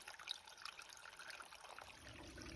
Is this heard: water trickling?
yes